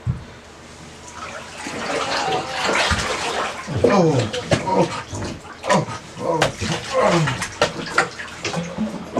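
Water draining from a bathtub after an ice bath, with gurgling and sloshing close by in a tiled bathroom, rising and falling unevenly and sounding alone.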